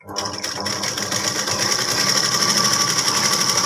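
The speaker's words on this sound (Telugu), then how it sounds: "ఇక్కడ వరకు స్టాప్ చేసి రిపీట్ స్టిచ్ వేస్తాం" A sewing machine runs a repeat stitch over fabric for chudidar pants, starting up and settling into a steady, fast, close whirring hum with a high mechanical whine, uninterrupted and without voices.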